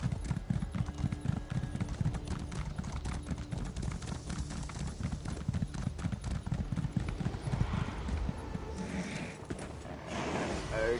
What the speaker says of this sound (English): everyone's getting on their horses and just riding around the enemies